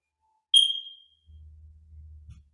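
A single short electronic beep, high-pitched and clear, sounds in a quiet room during a senior strength exercise class, followed by a faint low hum.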